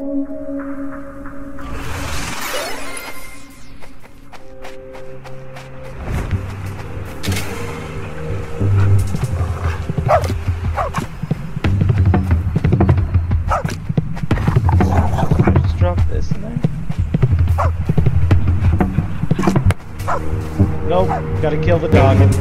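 Dog barking and yipping in the video game Youropa, repeated short bursts that sound close and loud, mixed with game music and effects while someone talks over them for much of the time.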